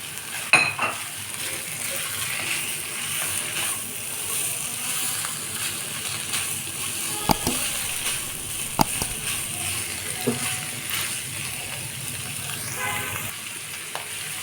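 Chopped carrots stir-frying in a pan for chow mein, a steady soft sizzle with occasional scrapes and clicks of the utensil, close and continuous.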